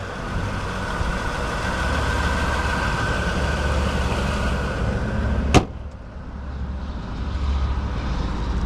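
A 2004 Lexus SC430's 4.3-liter engine idles with a low, even rumble, broken once by a short sharp click before the hum carries on.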